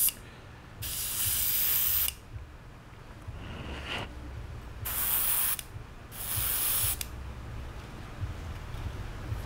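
An airbrush sprays in short, uneven hissing bursts, with a partly blocked nozzle. Three or four spurts of varying length are separated by quieter gaps over a low background hum.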